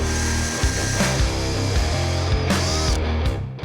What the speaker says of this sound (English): We'll start by drilling our pilot hole using an 1/8 inch bit.